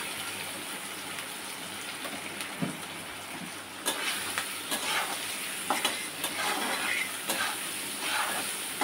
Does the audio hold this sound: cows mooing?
no